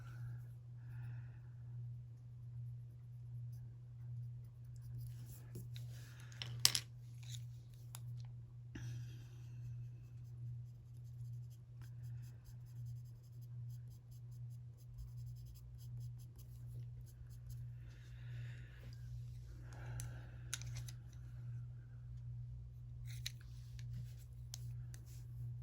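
Colored pencil strokes scratch softly across paper while an eagle is being colored, faint intermittent scratching with brief pauses and an occasional light tap, close and quiet with no talk.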